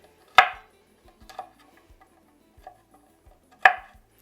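Garlic cloves are chopped with a knife on a board, a few sharp, separate knocks spaced about a second apart, with faint softer taps between them, close and clear with no talking.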